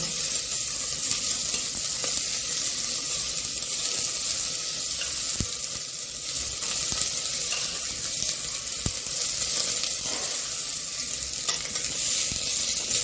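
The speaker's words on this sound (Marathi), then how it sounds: "हिरवे मटर घालते आणि चांगले परतून घेते तेलामध्ये" Green peas sautéing in hot oil in a pan, a loud, close, steady sizzle with faint stirring clicks throughout, no voices.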